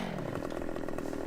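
A chainsaw runs in the Farming Simulator video game, a quiet, steady buzzing drone with a rapid pulsing rhythm, heard alone for a brief moment.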